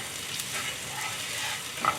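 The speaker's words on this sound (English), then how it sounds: "You start to hear the sizzle sound, right?" Steady sizzling of ginger and garlic frying in hot oil, a continuous crackling hiss with a brief louder pop near the end, no voices.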